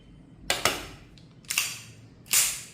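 A carry pistol is cleared as its slide is racked, giving four sharp metallic clacks in uneven pairs, close and fairly loud with no talk over them.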